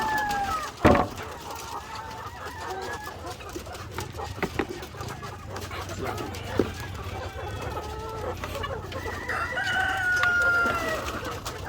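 Heritage breed cross pullet chickens on a farm, scattered soft clucks and calls with an occasional rooster crow, over a low ambient hum.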